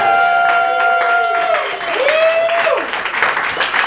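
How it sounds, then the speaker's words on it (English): An audience at a live book launch event in Brooklyn claps steadily for about four seconds, with loud rising whoops and cheers sweeping over the applause. "We're not done yet, but you have to clap for Sam for that"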